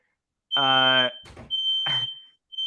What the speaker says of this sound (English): Yeah, there's a fire alarm.